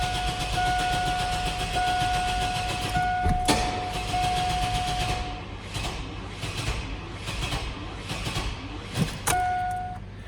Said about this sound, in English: Cranks but won't start.